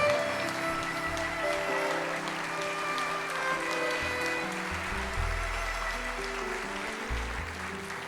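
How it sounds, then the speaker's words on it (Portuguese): Church congregation applauding during a worship service, sustained clapping heard at moderate distance over a low musical backing, continuous for the whole stretch. "Aplauda mais."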